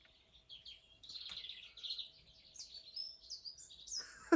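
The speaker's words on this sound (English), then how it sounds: "If you want to know the season that you're in, look at the birds and listen to them." Birds chirping and singing outdoors beside a house veranda, a steady run of bright high tweets and short trills across the whole stretch, moderately close, with a louder sharp call right at the end and no talk.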